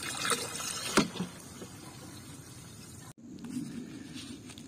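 Water runs steadily into a tank as fertilizer is stirred in, with a continuous splashing rush, a few clunks and one abrupt cut before the flow resumes.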